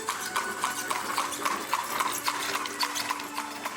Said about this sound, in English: we started seeing horses and buggies and little Amish kids on their little push scooters